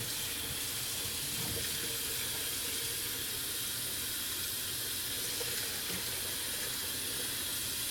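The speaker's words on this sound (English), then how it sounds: "I'm going to fill it up with a little bit of hot water." Hot water pours steadily into a cooking pot of stew, a continuous hissing splash of filling liquid heard alone at moderate level throughout, with no voices.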